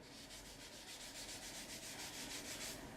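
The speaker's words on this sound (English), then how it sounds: "I just dab some of the oil and rub it in." Oil being rubbed into a wooden spoon by hand, a soft steady friction that sweeps back and forth in gentle repeated strokes, close and continuous with no talking.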